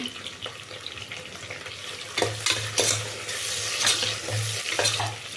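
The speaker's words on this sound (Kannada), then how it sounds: "ನಾನು ತೊಗೊಂಡಿರೋ ಟೊಮೆಟೊ ಹಾಕ್ತಾಯಿದ್ದೀನಿ" Tomato stirred into a frying chicken gravy masala, a spoon scraping the pan in repeated strokes over a constant close sizzle, with no one speaking.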